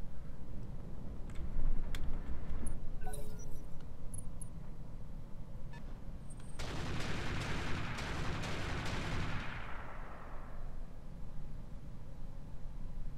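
Heavy AC-10 autocannon fire in the mech game Roguetech, a dense burst of booming shots around the two-second mark followed by a long rolling roar that fades after about ten seconds, with no talk over it.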